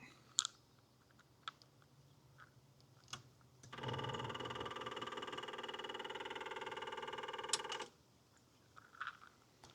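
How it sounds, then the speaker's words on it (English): A steady mechanical whir with rapid ticking from the electric fuel pump on an Onan 12.5 kW generator, priming fuel from the service tank through the fuel filter. It runs alone for about four seconds between scattered small clicks and handling noises. "Those clicks are the electric fuel pump pulling fuel from the service tank to the fuel filter up to the high pressure pump."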